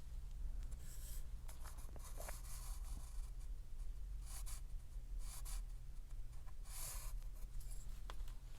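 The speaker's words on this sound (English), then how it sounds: "let me go ahead and grab my pencil" Pencil scratching across paper in short, repeated strokes close to the microphone, crisp bursts with brief pauses between, over a low steady background hum.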